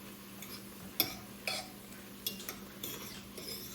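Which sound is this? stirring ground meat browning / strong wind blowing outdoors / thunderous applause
stirring ground meat browning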